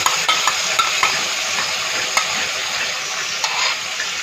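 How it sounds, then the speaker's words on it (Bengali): Sauce poured into hot oil sizzles loudly and steadily while a utensil stirs and scrapes the pan, with a few sharp clinks of metal against metal standing out above the frying. "সসটা গরম তেলের মধ্যে ঢেলে দিল"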